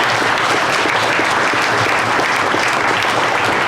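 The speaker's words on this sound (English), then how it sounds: "Please join me in another round of applause." Loud, dense audience applause fills a hall at the Rice County Best of the Best 2023 awards as the Schultz family is honored for contributions to agriculture, a steady unbroken roar of clapping throughout.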